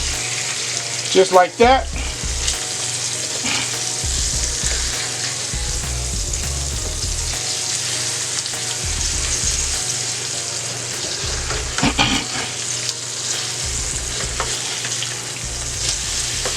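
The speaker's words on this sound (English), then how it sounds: "So the salmon's been on for a couple minutes. We're going to flip these." Salmon fillets sizzle loudly and steadily in a frying pan after being flipped, with a few clattering turns of the spatula and brief talk over the continuous frying.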